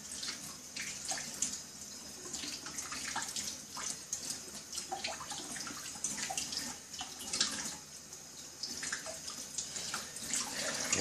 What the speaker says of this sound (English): grab a second mushroom, and commence the washing